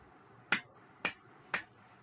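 A fist striking an open palm three times at an even pace, each a sharp, close, isolated smack separated by quiet pauses.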